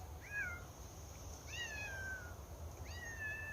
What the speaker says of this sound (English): One of our yard cats is coming to see me.